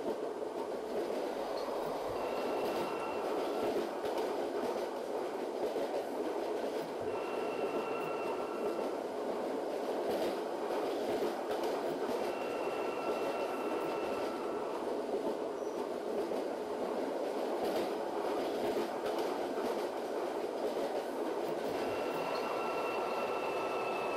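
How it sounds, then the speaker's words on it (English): A District Line underground train runs steadily in the OpenBVE train simulator game, giving a continuous rumbling roll with faint rhythmic clicks and occasional high whining tones drifting in and out. "They're not the fastest accelerating trains in the world,"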